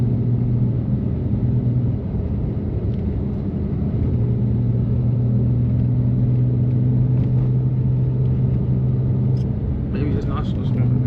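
A 650 hp rear-wheel-drive BMW M3 drives through a blizzard, its engine a steady low rumble heard from inside the cabin, continuous and even throughout.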